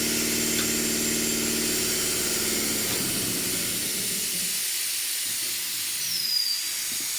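Air hissing out of a tyre during a tyre change in a workshop, a steady broad hiss over a low machine hum that fades partway through, close and continuous.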